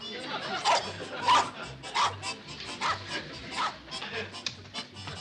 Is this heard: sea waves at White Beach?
no